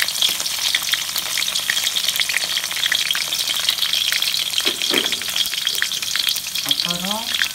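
Garlic fries in plenty of oil for vendhaya kulambu, a loud dense crackling sizzle that holds steady throughout. A few faint clinks sound near the end and no one speaks.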